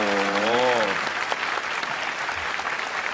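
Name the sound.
standing applause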